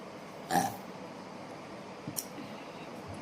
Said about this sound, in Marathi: मला तर ढेकर येते